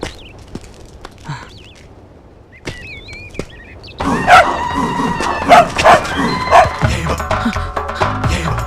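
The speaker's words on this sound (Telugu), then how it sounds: "అది స్ట్రీట్ డాగ్." A street dog barks several times in short bursts close by, with a busy outdoor scene behind it and brief human sounds earlier.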